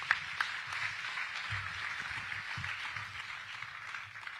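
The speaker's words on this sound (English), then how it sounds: "A warm round of applause, please" An audience at a live industry event applauds, producing a soft, distant patter of clapping that continues steadily for a few seconds, with some low rumble from the room underneath.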